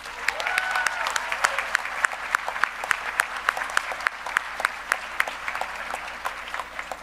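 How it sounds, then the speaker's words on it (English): Sustained applause from a graduation celebration crowd honoring graduates and their families, dense steady clapping with scattered sharper claps, filling the room without pause. "I also want us now to give a hearty round of applause again to all the graduates and their families."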